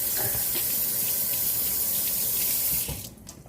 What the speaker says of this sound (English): Quick hand wash.